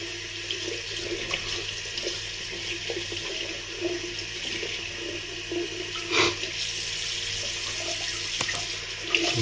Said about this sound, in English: We'll wet the brush here under the sink.